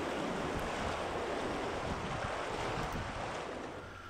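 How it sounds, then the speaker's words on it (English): Continuous rushing, churning water fills the whole clip, a steady loud roar of fast-moving river current with wind buffeting the microphone. "If it's just bouncy waves like this and the water doesn't slow, this is a wave train"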